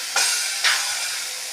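Spiced masala for an egg and spinach curry sizzling in a hot pan, two brief bursts of frying hiss that swell and then settle into a steady low sizzle, close and moderately loud with no talking.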